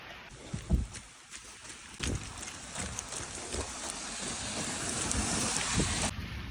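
Light rain patters outdoors during a run, a steady soft hiss with wind, footfall thumps and some gusty bumps against the microphone.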